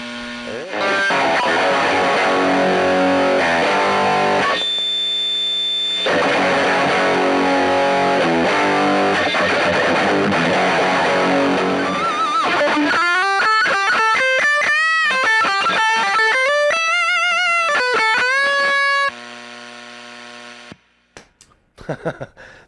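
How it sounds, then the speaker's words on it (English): Loud, heavily distorted guitar chords through a DemonFX King Of Drive pedal wash over a steady background hiss, then give way to a wobbly, bending lead line before cutting out near the end. "That may be the very worst hiss in YouTuber history"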